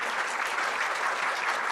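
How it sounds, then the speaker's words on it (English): Steady, dense audience applause from a live debate crowd, a continuous round of clapping held at an even level throughout with no voices above it. "Let's give everybody, both of them, a round of applause, please."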